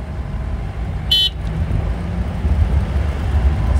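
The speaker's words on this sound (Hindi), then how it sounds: "60 गाड़ियों का ये काफिला" A long convoy of about 60 vehicles in a religious procession travels a road from Tissa to Tikri Garh, Dehrog, with a steady engine rumble and one short, sharp horn honk cutting through early on.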